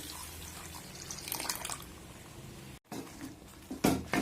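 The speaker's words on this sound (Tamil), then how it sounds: "இப்போ நம்ம கரைச்சி வச்சிருக்கிற புளிக்கரைசலை இதை சேர்த்துக்கலாம்" Tamarind extract is poured into a cooking pan, a soft liquid splash and trickle heard up close, with a brief gap and a few louder spatters toward the end.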